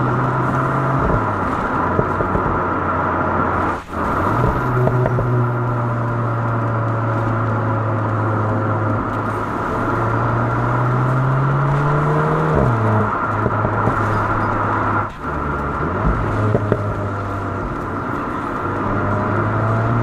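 A Volkswagen Golf 8 GTI engine, heard from outside the car, drones steadily for the whole stretch, its tone climbing and falling with the revs under a constant road rumble, with two brief dips where the sound cuts out.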